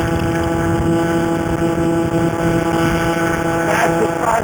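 A CAG 49cc pocket bike engine with stock exhaust held at full throttle, a loud steady drone with a constant pitch and some wind noise.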